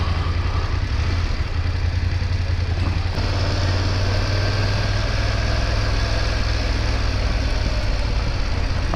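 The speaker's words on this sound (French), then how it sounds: "Ce petit bruit du pot là, je sais pas si vous l'entendez vous, mais c'est pas violent" A BMW F750GS motorcycle sits idling, its exhaust giving a steady, even low rumble close by with a faint mechanical tick, continuing unbroken with no talking.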